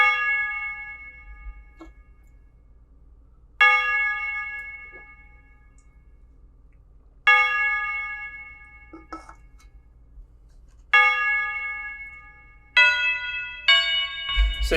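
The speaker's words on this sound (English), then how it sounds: "finally I got the Tubular Bell right here with this little yeet bell" A tubular bell sample strikes in a beat, with several separate ringing hits that decay between them, then quicker strikes near the end, clear and prominent.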